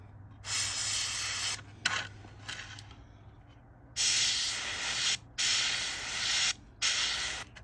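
An Infinity airbrush sprays a 50-50 blend of tan and desert sage model paint onto a 1/48 scale F-14A Tomcat model, sounding as short close hissing bursts separated by brief pauses.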